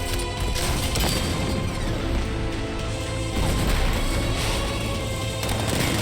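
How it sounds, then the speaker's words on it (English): A tank's 60mm cannon firing in Batman Arkham Knight, dense, loud blasts and crashing impacts layered over a heavy mechanical rumble, continuous and close throughout. "60mm cannon operational"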